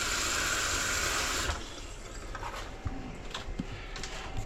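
Hot water gushes steadily from a tap at close range, a loud continuous rush that drops to a softer, uneven trickle with a few small knocks and splashes.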